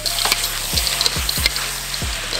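Nasi goreng frying and being stirred in a pan, a steady sizzle with several sharp scraping knocks of a utensil against the pan, close and fairly loud.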